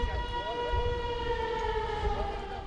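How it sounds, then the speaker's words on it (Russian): An alarm siren sounds in the product shipping workshop of the KAMAZ truck factory. It is a steady, sustained wailing tone, fairly loud and continuous, with faint workshop rumble underneath. "в цехе отгрузки продукции зазвучала сирена"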